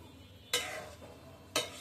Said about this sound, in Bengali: এখন ভাজার পালা। মামনির তেলে মিষ্টিগুলো দিয়ে দিচ্ছে।